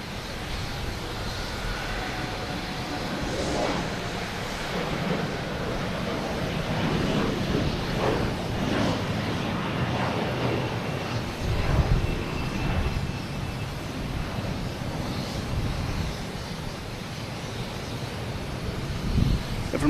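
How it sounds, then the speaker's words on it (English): An Air Canada Embraer E175 jet takes off from Boston Logan Airport for Montreal, a moderate, rumbling engine roar rising and falling under gusty wind noise on the microphone. "we have Air Canada taking off to Montreal."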